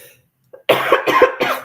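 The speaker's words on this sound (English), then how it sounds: "I don't know why I keep coughing here" A close, forceful burst of three or four quick coughs in a row after a brief silence, harsh and loud.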